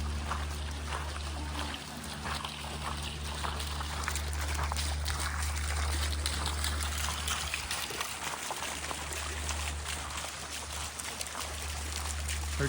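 Garden fountains in the Netherlands, their water splashing and trickling in a constant, moderately close wash of sound with no pauses.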